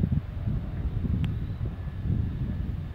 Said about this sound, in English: And this crazy wind and wow.